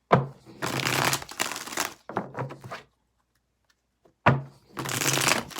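A deck of tarot cards shuffled in four bursts, each a dense papery riffle, close and fairly loud, separated by short pauses with one longer silence before the last shuffle.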